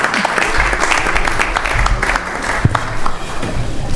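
An audience at a Sunday evening temple program gives a sustained round of applause, a dense patter of many hands filling the hall at moderate loudness for several seconds.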